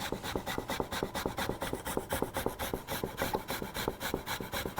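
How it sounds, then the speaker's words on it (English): A clove of garlic is grated into a tomato salad, a fast, steady run of dry rasping strokes, close and fairly quiet, with no talking. "Into our little tomato salad, some garlic. I'm gonna grate it in."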